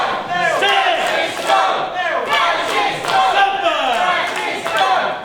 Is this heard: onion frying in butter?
no